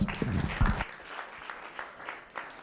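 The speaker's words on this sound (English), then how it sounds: "Please, a round of applause for that." Audience applause at a closing conference plenary: a short, fairly loud burst of clapping that dies away within the first second, leaving a quiet room with faint scattered claps.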